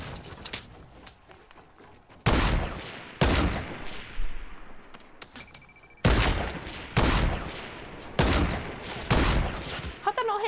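Gunshots in the battle royale game Fortnite: several sharp, loud single reports, then a rapid cluster of shots toward the end, with quieter gaps and distant sounds between them.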